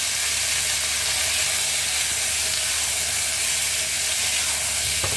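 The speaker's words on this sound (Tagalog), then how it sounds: "ilalagay na natin yung ating kamatis" Chopped tomatoes hitting hot sautéing spices in a pan while cooking Filipino beef afritada, giving a loud, steady, broad sizzle and hiss throughout, with no talking.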